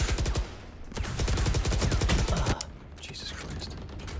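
Rapid video game gunfire in dense, continuous bursts, loud and close, dropping briefly before another volley, with a voice speaking over part of it.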